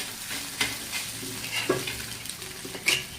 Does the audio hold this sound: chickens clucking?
no